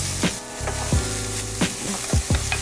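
Mushrooms frying in a pan for a veggie quesadilla, a constant close sizzle broken by several short scraping stirs of a utensil against the pan.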